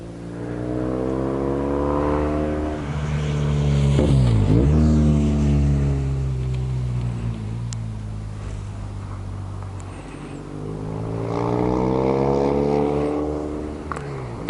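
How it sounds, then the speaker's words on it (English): Cars blast past one after another on a scenic valley road, Porsches among them, each engine swelling loud up close then fading with a falling pitch, heard amid steady wind rush. "These cars blasting around here."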